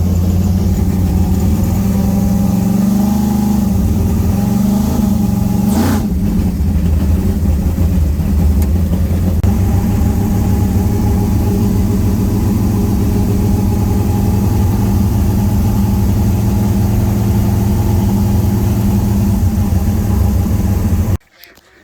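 A twin turbo Chevy Nova with aluminum heads runs loud and close, its deep idle steady with a revving swell partway through before the engine noise cuts off near the end.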